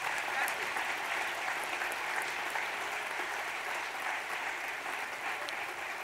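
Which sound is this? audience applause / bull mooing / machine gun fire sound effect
audience applause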